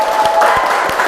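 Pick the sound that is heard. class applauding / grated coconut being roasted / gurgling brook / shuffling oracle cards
class applauding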